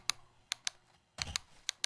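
Sharp, close plastic clicks from a cheap rear button attachment on a PS4 controller, pressed in a few separate taps and one quick double, with quiet between presses.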